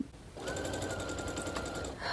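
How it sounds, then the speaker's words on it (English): Sewing machine stitching quilted lines on fabric key fobs, a quiet, steady rapid whir with a fine regular needle pulse lasting under two seconds, close by. "I'm just gonna sew all the way down"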